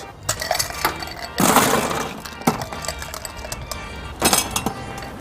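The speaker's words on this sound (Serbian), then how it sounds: "Dodajemo led." Ice cubes clatter into a glass with muddled raspberries and lemon in a few separate bursts, with sharp clinks and rattles between short pauses.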